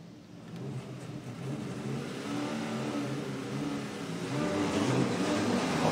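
Dodge Viper SRT10 and Subaru BRZ engines rev and roar while drifting side by side at a Formula Drift 2021 competition, a steady, fairly loud engine drone that builds toward the end.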